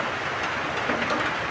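Rain falls as a steady, dense hiss, continuous and fairly loud across the whole short stretch with no voices.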